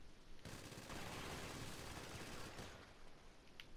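Rapid automatic gunfire in Grand Theft Auto, a dense sustained burst of shots that dominates most of the moment before easing off, with no talking.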